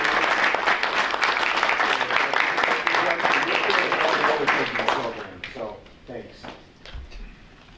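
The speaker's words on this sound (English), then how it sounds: "we'd like to give you a round of applause." A school board meeting crowd applauds with dense, steady clapping that thins out to scattered claps toward the end, with some voices mixed in.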